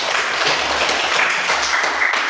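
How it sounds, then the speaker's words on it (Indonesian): Applause from a classroom audience, steady broadband clapping from many hands sustained evenly throughout. "Beri aplaus"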